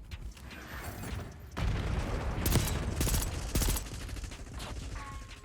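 AEK-973 rifle burst fire in Black Ops 6, several sharp close bursts of rapid shots in quick succession over ongoing game noise, preceded by quieter background sounds.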